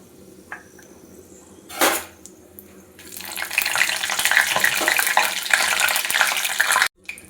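Bay leaves and a dried red chili tempering in hot oil for a potato and egg curry, a short splash then a steady, loud, crackling sizzle close by that cuts off abruptly near the end.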